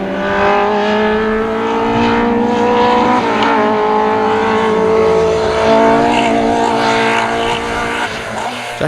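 Race cars on the Donegal hillclimb, including Vincent Deary's Nova, roar steadily close by, with engine pitch rising and dipping through gear changes and a brief shift partway through.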